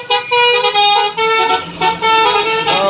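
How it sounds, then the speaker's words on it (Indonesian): A tanker truck's musical telolet horn plays several loud, close, sustained melodic toots in a rising and falling pattern, with brief gaps between phrases. "Dari tadi kedengaran teloletnya, apakah ini dibunyikannya?"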